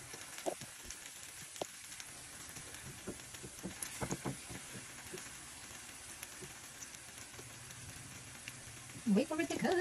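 Eggplant omelette frying in a pan, a steady soft sizzle with scattered crackles and pops throughout, plus a short clatter near the end.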